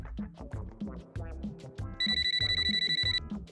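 A telephone bell rings in quick, evenly pulsed bursts for about a second, sounding loud and close as it cuts across ongoing background music.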